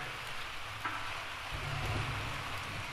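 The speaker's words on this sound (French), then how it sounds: "Il y a l'orage. Ça pète fort," Rain patters steadily at sea aboard a racing sailboat while a low thunder rumble rolls in and swells partway through.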